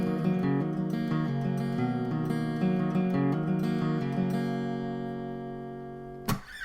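Guitar picking the verse of a song, a steady run of ringing notes that gradually fades, ending with a single bright strum.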